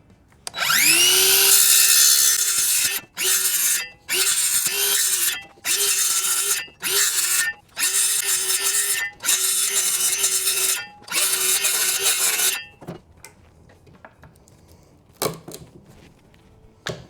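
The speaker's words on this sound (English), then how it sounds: "I'm gonna use the circular saw to just do some basic cut-ins" A circular saw cuts a casting deck template for a 1448 Lowe jon boat, spinning up loudly and then biting in a series of about eight short, close cuts separated by brief pauses, with clattering afterward.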